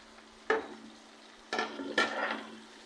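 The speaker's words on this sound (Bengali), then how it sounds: "এই যে মাংসগুলো আমি ভেজে রেখেছিলাম, ওগুলো আমি এখন দিয়ে দেবো।" Pre-fried chicken pieces tipped into a pan of vegetables for chili chicken, producing three distinct clattering, sizzling bursts of contact with the pan against a quiet low hum, with no talking.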